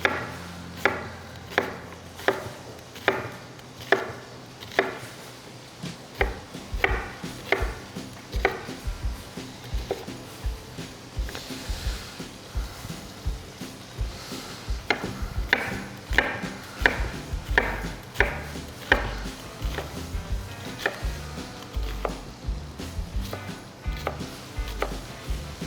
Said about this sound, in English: So we'll take this, chop that in half, and I like to do half moon